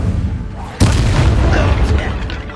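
Incendio fire spell explosion in Hogwarts Legacy, a sudden loud boom followed by a sustained rushing, crackling burst over rumbling game sound.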